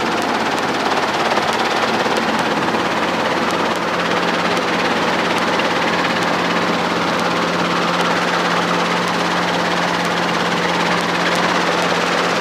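A Seacoast Helicopters craft near Portsmouth, NH, comes in to land, its engine and rotor making a loud, steady, close roar with a fast, even chop throughout.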